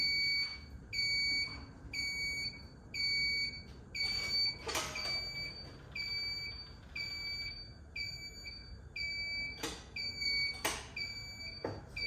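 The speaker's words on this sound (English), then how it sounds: "It's gonna beep when it turns on because that's how low it is" Repeated high-pitched electronic beeps in a steady pattern from a low-battery booster box, with occasional clunks and rustling in a quiet space.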